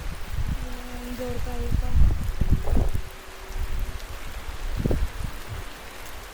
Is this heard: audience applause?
no